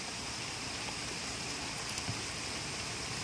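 Heavy rain pours steadily over flooded rice paddies in the Philippines, a dense, even hiss that carries on without a break at a soft, distant level.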